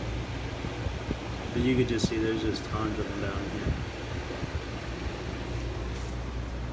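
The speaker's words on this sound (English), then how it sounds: "Sorry about the fan, it's blowing right in my ear right now." Steady broadband whoosh of an electric fan blowing right beside the microphone in a room full of shrimp aquariums, a constant low rumble running under close talking throughout.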